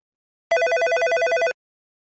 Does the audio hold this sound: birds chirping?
no